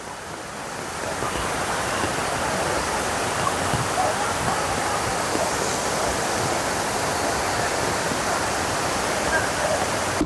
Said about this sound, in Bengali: এই যে দেখেন সেই ঝর্ণাটা, দেখুন একবার সেই ঝর্ণার দৃশ্যটা।